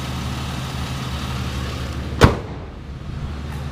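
A 2008 Chevy Uplander's 3.9 liter V6 idling, a steady low engine rumble with one sharp click or thump partway through.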